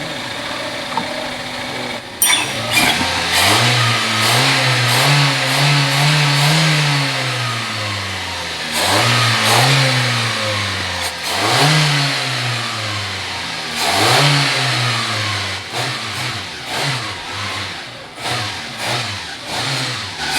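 A car engine runs and revs repeatedly in a repair workshop during work to free seized spark plugs without removing the engine. The revs rise and fall several times, loud and close, with no talking.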